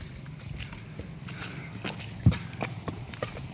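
A mare's hooves clip-clop at a walk in irregular, moderately close steps, with a few sharper knocks over quiet background noise.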